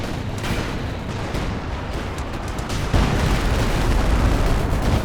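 Walking Stuka rocket barrage in the video game Company of Heroes 2: a dense, continuous rumble of overlapping explosions with no clear gaps, swelling louder and heavier partway through.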